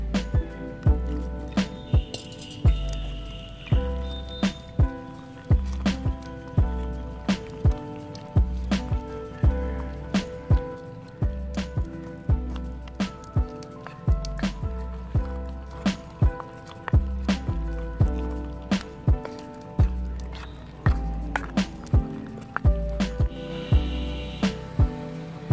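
Wheat flour batter for a South Indian sweet paniyaram is stirred with water in a bowl, giving a regular run of wet squelching slaps and knocks, close and moderately loud, with no talking.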